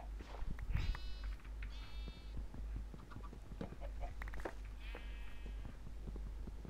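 A sheep in the Minecraft video game bleats three times in short, buzzy calls, with scattered clicks and a steady low hum underneath.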